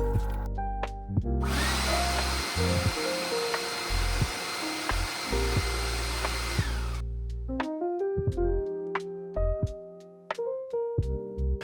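A dust collector runs with no filter fitted, its motor starting with a hum and rising to a steady loud whooshing roar, then spinning down to an intermittent rumbling hum with knocks near the end.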